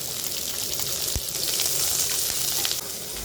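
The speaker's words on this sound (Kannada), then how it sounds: "ಬೆಳ್ಳುಳ್ಳಿಲ ಶುಂಠಿಲ ಫ್ರೈ ಆತಂಡು" Garlic and ginger fry in a pan for a pepper chicken dish, giving a steady, bright sizzle that stays loud and even throughout, with one soft knock partway through and no voices.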